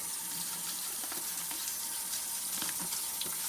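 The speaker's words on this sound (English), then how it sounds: "we're going to use a little water and the toothbrush just to try to get that filter clean." Water trickles and splashes steadily while a dishwasher filter is scrubbed with a toothbrush, a continuous close wash with faint brushing scratches beneath it.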